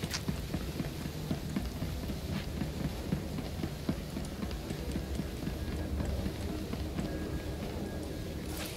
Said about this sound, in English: It's raining here too.